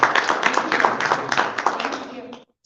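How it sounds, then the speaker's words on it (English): An audience applauds a speaker at a vision workshop event, a dense, fairly loud burst of many hands clapping that fades out after about two seconds. "Another big round of applause for Christy Shadowens."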